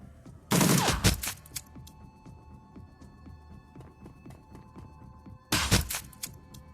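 Video game gunfire in two loud, dense bursts of rapid shots, one near the start and one near the end, with a low hum and scattered faint game sounds in between.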